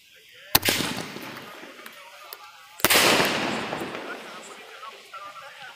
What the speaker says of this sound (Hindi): अब हमारा स्काई शॉट को जलाते हैं